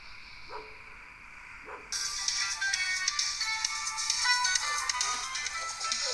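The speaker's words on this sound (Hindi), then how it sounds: "तैयब की अम्मी की कॉल" A mobile phone starts ringing for an incoming call, a bright electronic ringtone that comes in suddenly after a couple of soft taps and keeps going steadily at moderate volume without any talk.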